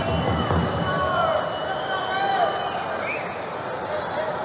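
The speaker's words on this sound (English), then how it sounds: "crowd getting a little bit agitated up there" Spectators at a women's -70 kg judo Grand Slam final in Dushanbe murmur and call out restlessly, a steady, fairly loud hubbub of overlapping voices filling the arena throughout.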